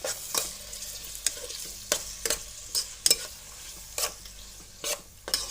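Tomato, garlic and green chilli sizzle steadily in a hot pan while a spoon scrapes and stirs in irregular strokes, close up, with no voices.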